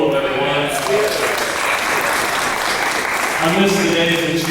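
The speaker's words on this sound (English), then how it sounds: "Another round of applause for Leah Wolf, everyone." An audience applauds for Leah Wolf at a Lions Club queen event, with steady, dense clapping running throughout and voices mixed into the crowd noise.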